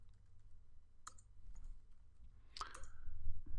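Typing on a computer keyboard while writing into a text file, a few isolated sharp key clicks with gaps between them, close and quiet over a low background hum.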